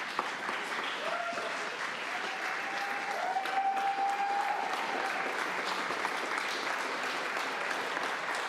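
A council chamber audience applauds sanitation and other city essential workers at a city council work session, steady dense clapping that holds for the full stretch, with a faint voice briefly rising partway through.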